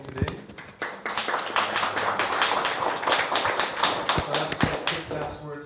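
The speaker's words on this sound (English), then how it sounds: "a big hand of applause to our speakers" Audience applause for the speakers at the close of a smart-cities lecture, a dense wash of overlapping claps sustained for several seconds at moderate level, with some talk mixed in.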